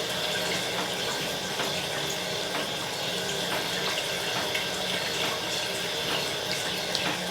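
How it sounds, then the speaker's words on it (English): Cooling water rushing steadily through the condenser of a small bourbon distillation setup, a constant hissing, gurgling flow heard close and moderately quiet with no talk. "The condenser's a little warm, so I turned the water up on that too."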